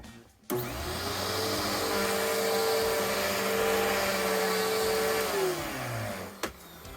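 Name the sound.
Riccar Vibrance vacuum cleaner running after belt change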